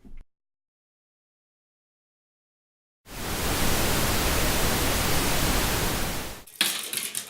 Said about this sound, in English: You can also generate pink noise in that program.